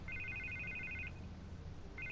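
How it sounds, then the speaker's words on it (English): A telephone rings in a Batman adventure game: two bursts of rapid electronic trilling separated by a short pause, fairly clear over a low background hum. "I can't get the phone to stop ringing."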